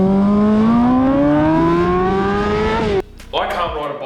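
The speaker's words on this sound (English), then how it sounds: "right now we've got the exhaust on, so here's that awesome MotoGP F1 sound that you want to hear" A loud, high-pitched motorbike engine with the exhaust fitted revs steadily upward for about three seconds, then drops off sharply before a brief rough rev returns.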